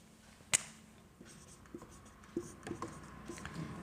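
Pen or pencil writing out a maths solution on paper, with faint scratching strokes and a few sharper taps and clicks spread through a quiet room, no talking.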